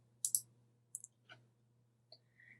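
A few sharp computer mouse clicks, faint and close, spaced irregularly over quiet background hum.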